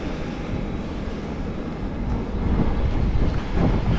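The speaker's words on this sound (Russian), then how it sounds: "Ветер, да, ветер." Strong wind buffets a microphone on an outdoor ride near Yalta in Crimea, a continuous low roar that swells louder toward the end.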